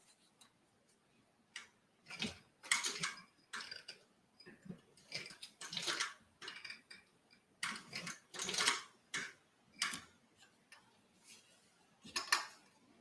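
Hand-cranked leather-working machine (a Burcham) stitching Italian leather, giving a run of irregular mechanical clicks and ticking bursts, moderately close, with short pauses between cranks and no talking.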